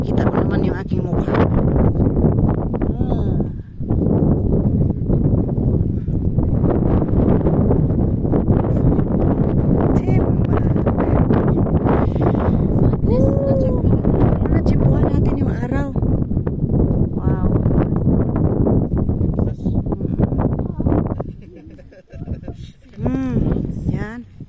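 Strong wind buffets a microphone outdoors on a foggy early morning, a loud continuous roar that drops away briefly near the end, with a person talking over it.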